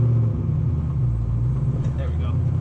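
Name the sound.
loud V8 truck engine idling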